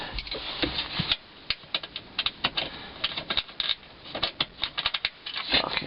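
Ratchet clicking out a bolt on a Honda Insight's IMA battery, a close run of sharp, uneven mechanical clicks and taps in quick bursts with brief pauses, no talking.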